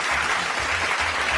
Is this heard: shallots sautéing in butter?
no